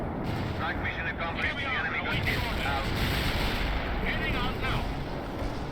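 A World in Conflict artillery barrage: dense, continuous rumbling blasts and crackling detonations rolling together, loud and sustained throughout, with no speech.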